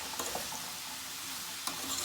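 Roasted ground cumin being stirred into a pot of Guyanese street food, a steady soft scraping and faint sizzling hiss throughout, close and fairly loud, with a couple of slightly sharper knocks.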